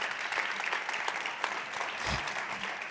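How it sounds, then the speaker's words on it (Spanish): Audience clapping as a guest takes the stage at a football culture talk, a steady, moderately loud round of applause with a low bump partway through. "yo pido un aplauso para él"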